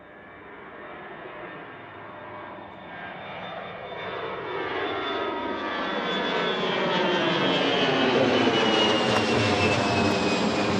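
A jet airliner lands on runway 1 at Reagan National Airport, its engine roar swelling steadily from a distance into a loud, close rushing whine that keeps building to the end, with no talk.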